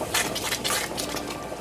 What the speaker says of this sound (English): I have that coconut milk in here. I'm going to go ahead and stir this in